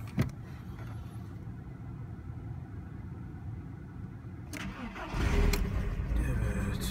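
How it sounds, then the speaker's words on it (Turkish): An LPG-fuelled car engine cranks and catches, settling into a steady low idle that swells louder toward the end; no one speaks. "Evet, arabayı çalıştırdık."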